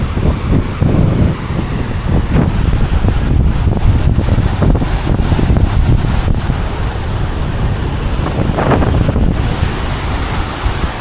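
Big waves on Lake Nicaragua, a volcanic lake, roll and crash on a beach under constant roaring wind buffeting the microphone, a dense, loud wash of noise throughout.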